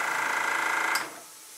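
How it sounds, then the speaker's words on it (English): Airbrush spraying fluid acrylic paint, a steady close hiss that cuts off near the end, leaving a faint background. "I like this airbrush."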